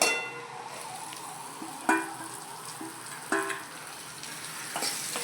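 Spiny gourd (kantola) being added to a pan with garlic and stirred, giving a steady sizzle of frying with a few sharp clinks of a spoon against the pan at intervals.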